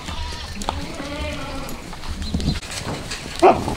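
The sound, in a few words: goats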